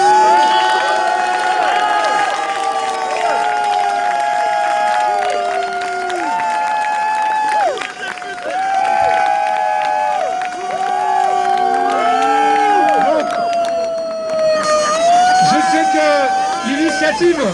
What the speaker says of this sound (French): vous pouvez vous applaudir et faire du bruit